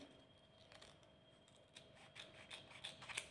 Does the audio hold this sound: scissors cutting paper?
yes